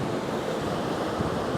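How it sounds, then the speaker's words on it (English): Ocean waves wash steadily along the La Jolla shore, a continuous broadband surf roar close to the microphone with some wind buffeting and no voices. "Now wait for the ocean to do its thing."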